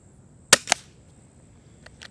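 A Weihrauch HW 44 .177 air pistol fires two sharp, close cracks in quick succession, followed by two fainter, softer pops a moment later in an otherwise quiet setting.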